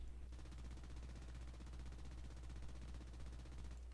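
Rapid aircraft gunfire strafing the ground in the War Thunder combat flight game, a dense continuous stream of loud, fast machine-gun bursts filling the whole stretch, over a steady low engine drone.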